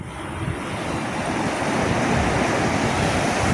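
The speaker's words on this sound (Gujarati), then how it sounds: "એની મોજા મસ્ત આવે છે મોટા મોટા." Loud, continuous roar of ocean surf building steadily, with broad rushing water and wind noise and no voices.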